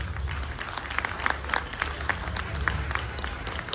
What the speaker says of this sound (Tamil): அவங்களுக்கான ஒரு கரகோஷம் நீங்கள் கொடுக்கணும்.